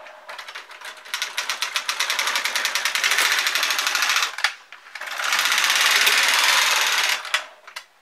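A knitting machine carriage is drawn across two rows of needles, working a charity hat. Each pass is a dense, rapid mechanical clatter lasting a few seconds, separated by a short pause, loud and close, with no voices.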